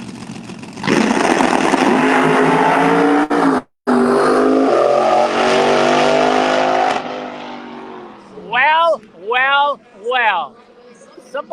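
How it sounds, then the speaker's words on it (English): A drag racing car launches hard down a no-prep track at a Street Outlaws No Prep Kings event at GALOT Motorsports Park, a loud sustained engine roar that fades away, followed by shorter revving bursts, with commentary voices over it. "Lizzie Busey with a strong pull through there in that Pat Busey horsepower machine"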